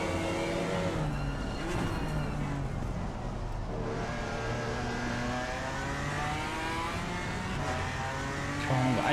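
On-board race car engine from a racing video game at Misano in wet conditions, a loud, continuous roar with rising and falling revs through gear changes, heard close up without any talk.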